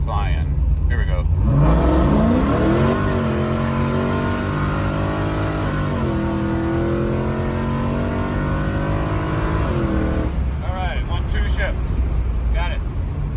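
A 1999 Pontiac WS6 with an LS1 V8 kicks down to first gear and accelerates hard, the loud engine roar climbing steadily in pitch, shifting, then climbing again, heard from inside the car with voices at the start and end.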